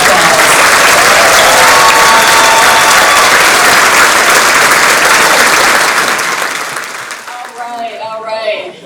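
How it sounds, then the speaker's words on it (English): Loud, sustained applause from a large crowd at a gala fills the room, then tapers off near the end as a few voices emerge. "so we can give you a huge round of applause"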